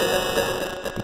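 Harsh, heavily clipped bitcrusher distortion heard on its own, a dense gritty buzz with a steady, loud, abrasive texture throughout and no talking.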